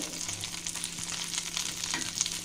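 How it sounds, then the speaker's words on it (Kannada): Byadagi chillies and curry leaves sizzle and crackle steadily in a hot pan, a close, continuous bright frying hiss with small pops and stirring. "ಇವೆರಡನ್ನೇ ಚೆನ್ನಾಗಿ ಫ್ರೈ ಮಾಡೋಣ"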